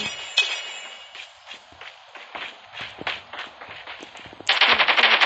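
Call of Duty gameplay with scattered gunshots and running footsteps, ending in a loud, rapid burst of machine gun fire close up.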